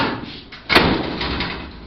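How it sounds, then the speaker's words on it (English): A vehicle's back door, fitted over a newly installed floor, is swung shut once with a single solid slam, fairly loud and close, followed by a faint room hum with no talking. "I'll shut the door here so y'all can see how good it came together."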